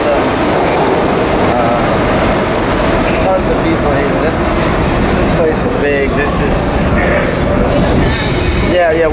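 A New York City subway train roars loudly and continuously with rattling wheels and occasional high squeals, faint voices mixed underneath.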